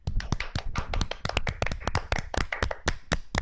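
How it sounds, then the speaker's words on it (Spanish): A small group of people clap and cheer for a student performance on a radio program, with dense, uneven handclaps running steadily from start to finish, close and lively. "De pie se paró el público a aplaudir"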